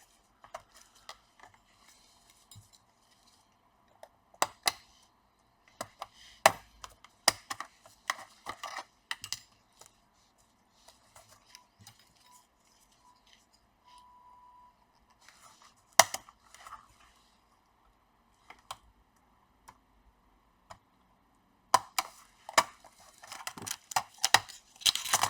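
Acer Aspire 5750G laptop keyboard being pried off its clips with a sharp tool, close scattered plastic clicks and snaps in irregular bursts with quiet gaps between.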